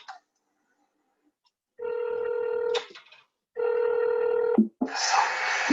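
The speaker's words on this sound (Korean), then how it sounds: "전화 왔다. 전화 왔다. 전화 받아보자." A telephone rings in two loud, near electronic bursts, each about a second long with a short pause between, followed by a brief clatter and a wash of noise.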